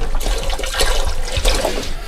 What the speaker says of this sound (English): I'm going to pour some water into this bucket right now.